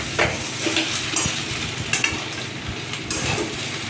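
Chow mein noodles with soy, green chili and tomato sauces being stir-fried in a pan, a steady close sizzle with scraping stirring strokes throughout, no voices.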